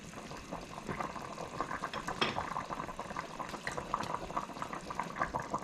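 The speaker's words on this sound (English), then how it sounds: "here is the Hassa curry. It's cooking up." Guyanese-style hassa fish curry simmers in a pot with added water, a steady bubbling and popping boil that stays faint and continuous, with no voices.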